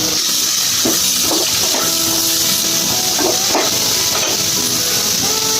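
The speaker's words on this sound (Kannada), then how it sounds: "ಇವಾಗ ಈರುಳ್ಳಿನ ಸ್ವಲ್ಪ ಫ್ರೈ ಮಾಡ್ಕೊಳ್ತೀನಿ" Onions, four to five finely chopped, frying in oil for aloo bonda, giving a steady close hiss and sizzle with faint clinks and stirring scrapes throughout, no talking.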